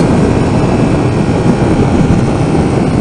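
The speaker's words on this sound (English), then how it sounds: "Firing order on the MT-07 gives it that nice throaty sound." A Yamaha MT-07 motorcycle engine accelerating gives a loud, continuous throaty roar heard up close, blended with heavy wind rush and holding steady without a break.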